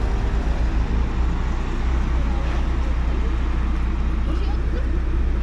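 Steady road traffic at a bypass road crossing in Speightstown, Barbados: a continuous low rumble of cars and heavier vehicles passing close by, loud and unbroken throughout, with a voice speaking over it.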